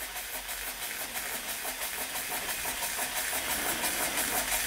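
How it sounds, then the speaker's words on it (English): A Weeden No. 38 antique model steam engine chuffs and hisses steadily, its rhythmic puffing growing slightly louder over a constant airy hiss. "Not exactly the fastest steam engine in existence, but it is running."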